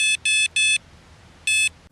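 Four short electronic beeps from a Monster Fishing MF 213C bite alarm, three in quick succession, a pause, then one more, shrill and close.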